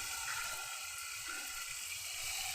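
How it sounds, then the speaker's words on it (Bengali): Water is poured into a cooking pot of braised food, giving a steady, close rushing hiss that runs unbroken for the whole stretch. "এর মধ্যে আমি এবার জল দিয়ে দেবো"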